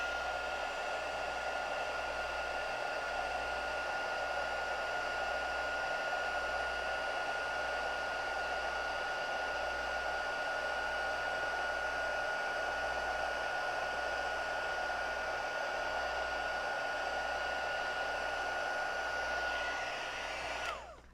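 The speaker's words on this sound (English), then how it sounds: "So that has some powder on there. So let's heat her up." A heat embossing tool melts embossing powder for Christmas card making, blowing a loud, steady airy whoosh with a low hum underneath that runs unbroken for about twenty seconds and then cuts off.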